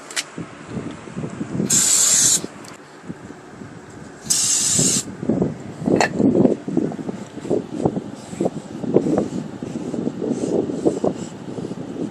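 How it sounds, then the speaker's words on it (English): Two sharp hissing bursts of brake cleaner sprayed from a can in a garage during a Mazda B2200 engine swap, each about half a second to a second long, over clattering work noise. "Take our trusty brake clean."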